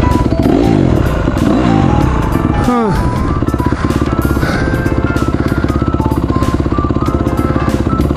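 A Honda CRF150R motocross bike is kicked over, and its engine runs loud and close with a rapid, rhythmic pulsing beat, while a voice may be heard talking nearby.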